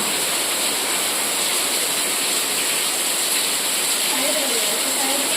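Dense, continuous hiss of heavy rain pouring steadily, loud and unbroken, with a faint voice briefly audible near the end.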